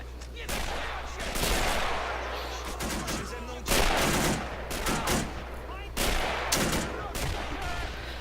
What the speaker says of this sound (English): Those are in Ukrainian uniforms, and they've opened fire on the Ukrainian guards.